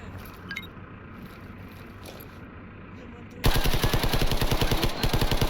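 Bison SMG from the STALKER Zona mod fires in a rapid, steady automatic burst that starts abruptly and runs loud and close to the end. It follows a stretch of quiet ambient background with faint high chirps.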